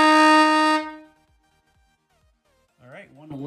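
Close, loud blare from a cheap air horn that cuts off within the first second, followed by near silence and then someone talking.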